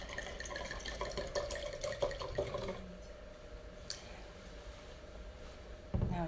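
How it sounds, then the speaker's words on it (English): Red Bordeaux wine, Château Beauséjour-Bécot from Saint-Émilion, poured into a glass: a close, steady liquid trickle for about three seconds, then quiet with a couple of faint glassy knocks. "I'm going to pour myself a little bit here"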